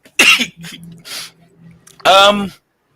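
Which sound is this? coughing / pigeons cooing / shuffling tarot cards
coughing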